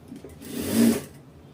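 A sewing machine runs in a short whirring burst while stitching a folded fabric strip for a blouse, swelling to a peak midway and fading, close and alone.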